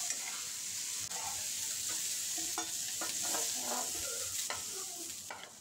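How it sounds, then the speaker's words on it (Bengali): Prawns fry in mustard oil in a pan with a constant bright sizzle, while a spatula scrapes and taps at irregular moments; no voices are heard. "তাই চিংড়ি মাছটা আমি একটু ভেজে নিয়ে তুলে নেব"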